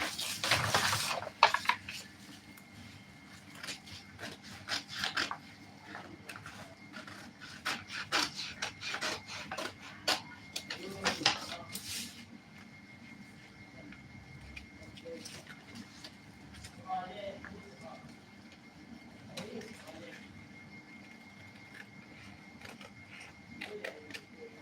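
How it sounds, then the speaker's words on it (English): Scissors cut through jacket fabric for a bomber jacket, making repeated rasping, rubbing snips close by, with a person talking at times. "let's cut."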